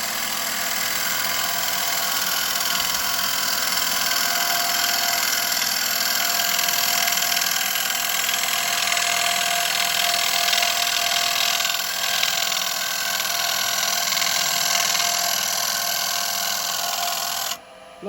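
A wood lathe turning a bowl with a carbide bowl gouge, giving a steady droning whir with a continuous hiss of cutting, loud and close, running evenly for the whole stretch and stopping abruptly at the end.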